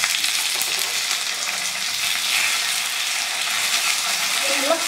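Curry leaves and dried red chilies crackle in oil over a low flame for a mutton kuzhambu tempering, giving a loud, continuous sizzle with small pops and spatters.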